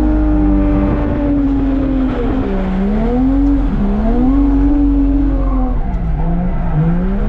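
A Japanese car's engine drones steadily with wavering pitch as it slides and revs through a drift on a wet track in the rain, loud and close, with no talking.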